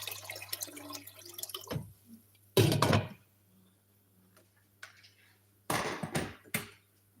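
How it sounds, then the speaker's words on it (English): Water is poured into a cooking pot in a home kitchen, coming as a few short, splashy bursts separated by quiet stretches over a low steady hum. "So I'll add a little more water."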